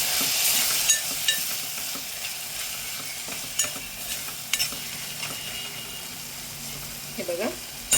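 Turmeric, asafoetida and chili powder sautéing in a pan for Maharashtrian masale bhat, a soft continuous sizzle broken by scattered clicks and scrapes of a spoon stirring, fairly quiet throughout.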